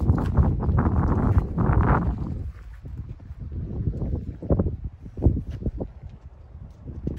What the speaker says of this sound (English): it's a little bit windy